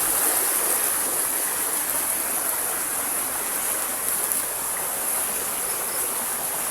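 Stream water rushing steadily over rocks, a dense continuous hiss and gurgle heard up close with no breaks or voices.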